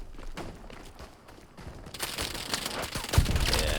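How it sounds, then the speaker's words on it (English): Artillery fire and gunfire rumble in Hell Let Loose on a World War II El Alamein battlefield, with muffled reports growing into a louder, dense barrage of booms and shots. "the artillery is coming in on the point now"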